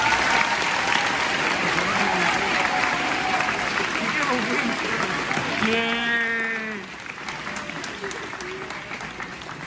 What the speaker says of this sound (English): please give the judges a nice round of applause